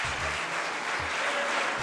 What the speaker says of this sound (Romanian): Stai, mă, nu mai aplaudați